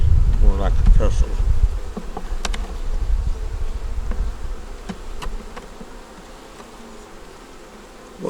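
Honey bees buzz steadily on a hive frame with a yellow queen, eggs and brood. The hum is close and dense, loudest at first and then easing to a softer drone.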